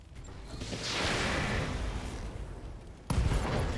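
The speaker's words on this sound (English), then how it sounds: "Oh, ammo explosion." An ammo explosion in the RogueTech mod of BattleTech, a long whooshing roar with a rumbling tail, then a sudden heavy boom near the end, loud and without speech.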